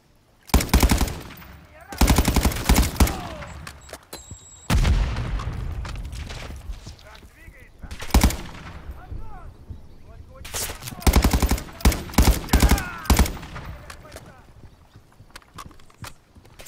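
Bursts of automatic gunfire from a first-person shooter campaign, Modern Warfare III, crackle in loud repeated volleys with short gaps, booming impacts and faint radio-style voices in between.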